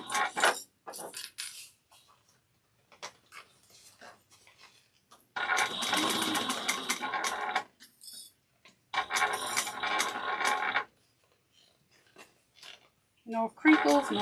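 A sewing machine back stitches a small bowler bag in two sustained runs with short bursts around them, close and fairly loud, with a voice speaking between runs.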